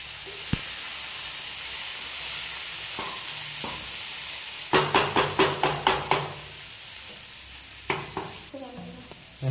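Potato fry sizzling in oil in a pan, a steady close hiss throughout, broken by a quick run of sharp scraping clinks as it is stirred around the 5-second mark and a few more scrapes near the end.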